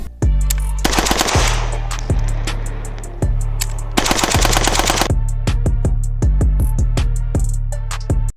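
AK automatic rifle firing loud, close bursts of rapid shots separated by short gaps and single cracks, with no talking.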